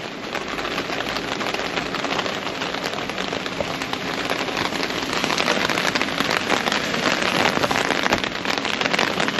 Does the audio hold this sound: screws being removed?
no